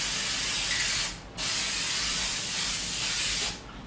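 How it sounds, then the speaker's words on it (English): Two long hissing bursts from an aerosol can of frosted glass spray, close by, coating a window, separated by a brief pause, with a low background hum throughout. "we're just going to put a few coats of this spray on"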